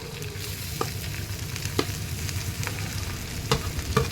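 Cooked rice tossed into a hot pan for fried rice: a low, steady sizzle with a few sharp spatula taps and stirring scrapes.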